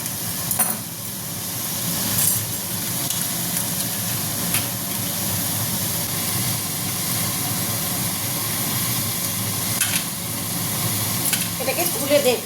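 Vegetables sizzle steadily in a hot pan while being stirred for a vegetarian mixed vegetable dish, a continuous close frying hiss with occasional scraping spoon strokes.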